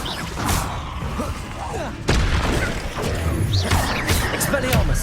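Hogwarts Legacy spell combat delivers loud, continuous explosions and crashing impacts, with a sharp burst around the midpoint that keeps the barrage heavy afterward, as in-game voices shout spell names over it.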